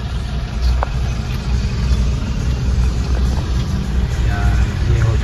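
Steady engine rumble and idling of vehicles in city traffic in Aurangabad, a dense low drone with faint scattered higher sounds and no talking.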